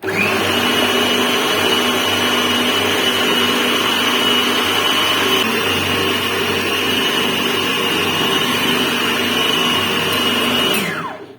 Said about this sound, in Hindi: इसको बहुत ज्यादा बारीक नहीं पीसूंगी, बस थोड़ा सा ही करूंगी 1-2 मिनट के लिए।